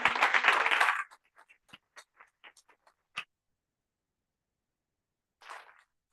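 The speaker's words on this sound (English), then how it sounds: "Please, can we give her another round of applause?" An audience applauds after a talk, a brief burst of clapping that quickly thins to a few scattered claps, then a short final flurry later.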